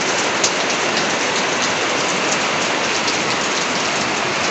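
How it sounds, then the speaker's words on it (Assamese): Heavy evening rain pours steadily in Guwahati, a loud, dense and unbroken hiss of drops striking surfaces, with no voices over it. "এয়া বৰষুণ দি আছে"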